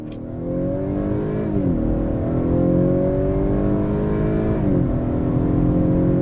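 A 2021 Honda Accord Touring pulls hard under throttle, its engine note climbing steadily, then dipping briefly at two smooth upshifts of the 10-speed gearbox before rising again, heard from inside the cabin.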